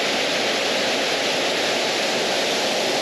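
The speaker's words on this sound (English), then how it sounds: "Waterfall number 4." Steady, dense rushing of a waterfall on the Fiery Gizzard Trail in Fiery Gizzard State Park, a constant broadband roar with no breaks, close and full, no voices over it.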